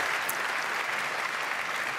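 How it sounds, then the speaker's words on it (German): Dense, steady applause from a large audience at an award show, loud and continuous throughout with no voices standing out. "wenn ich jetzt nicht reden würde, würden die Leute noch eine ganze Weile klatschen"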